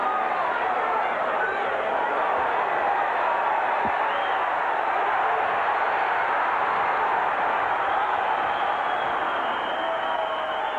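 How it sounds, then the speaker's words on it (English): A boxing arena crowd murmuring steadily in the background at a title fight, a dense, even roar of chatter held throughout beneath a ringside commentator's voice. "Now the crowd, I think you can hear in the background"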